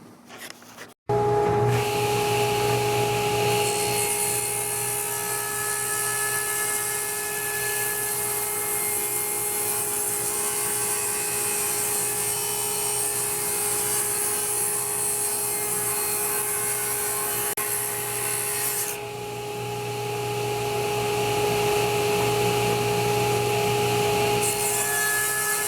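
A power saw makes a trim pass on the warped teak top of a fiberglass anchor box, a loud steady whine with a constant tonal hum held for over twenty seconds, close and alone.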